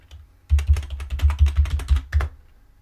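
Quick run of computer keyboard typing entering a terminal command, about a dozen close, crisp keystrokes in a brisk burst lasting under two seconds.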